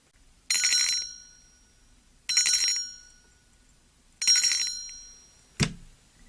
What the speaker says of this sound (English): Ringing the police department